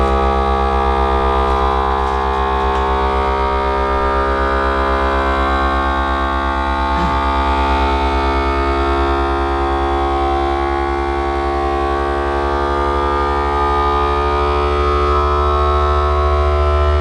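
A vacuum sealer machine pulls air from a bag of sugar with a steady, loud droning motor hum that holds unchanged for the whole stretch, with no talking over it.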